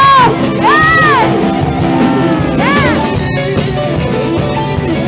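Church congregation at Sunday worship shouting and cheering, a loud sustained crowd roar with rising whoops and yells, sounding close and filling the room.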